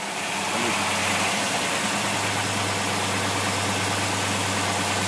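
A Predator small engine idles steadily after a carburetor adjustment, a continuous even low hum holding at constant loudness for the whole stretch with no speech.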